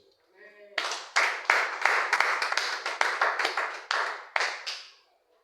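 Church congregation clapping to acclaim Jesus during a French-language sermon, a dense run of loud hand claps lasting several seconds that rise quickly and fade at the end.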